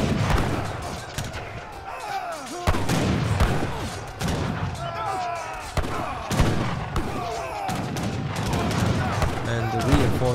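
Volleys of musket fire and booming cannon shots crackle through an Age of Empires III battle, bursts of gunfire overlapping in a dense, continuous skirmish with heavy thuds punctuating it.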